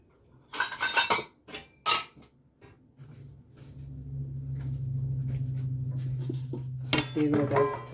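A knife clicks and scrapes against a metal plate while cutting sweet sakarpara dough, with quick clattering taps, a soft steady hum from heating oil in the middle, and more sharp clinks near the end.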